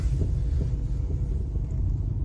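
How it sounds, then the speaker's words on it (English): A low, continuous rumble with a faint irregular throbbing from a failing axle, heard from inside a 2021 Subaru Ascent while driving. "Oh, that sounds like an axle."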